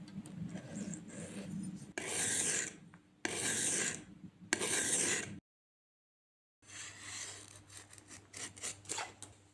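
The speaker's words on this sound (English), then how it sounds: "move on to the other side of the stone, which is the one that it's actually gonna do the sharpening" A blade rubbed on a whetstone in several long rasping bursts separated by short pauses, with one full silence before a final rougher stretch of grinding; close and fairly quiet.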